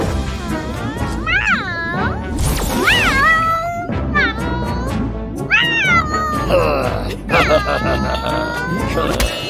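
A cartoon cat meows repeatedly in a children's farm-animal sound lesson, with several clear, rising-and-falling cries close up over a bed of background music.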